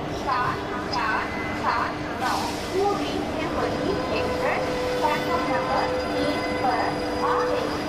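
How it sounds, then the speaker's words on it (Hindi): An Indian passenger train hauled by a WAP-4 locomotive brakes to a stop, a steady loud rumble of wheels with high metallic squeals and screeches running throughout. "अब वक्त आ गया कि हम लोग ट्रेन को ब्रेक्स लगा के रोक दें।"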